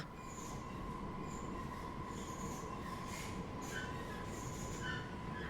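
Metro train running underground, a steady loud rumble with a sustained squealing tone and intermittent higher wheel squeals, continuous throughout with no talk.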